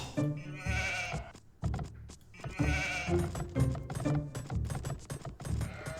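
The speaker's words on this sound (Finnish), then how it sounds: "Nyt löytyy muuten taas lammas." Sheep in the Age of Empires II strategy game bleat in two clear, wavering calls, followed by clicking and thudding game interface sounds, fairly close and without talk.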